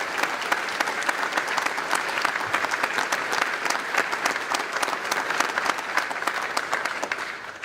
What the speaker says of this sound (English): Y'all need to give them a round of applause.